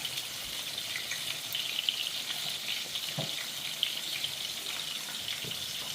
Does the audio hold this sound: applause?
no